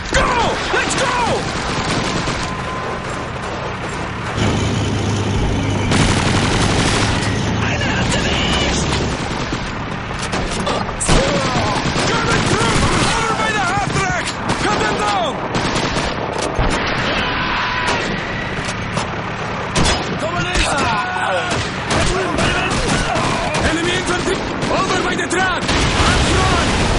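MG42 machine gun fire in Call of Duty 2, dense bursts of automatic gunfire amid explosions and battle noise, loud and continuous, with shouting voices mixed in.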